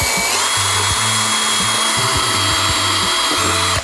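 A power drill drives a screw into a 3D-printer filament drying box build, its motor whining in short repeated bursts with brief pauses between pulls of the trigger, close and loud, no talking.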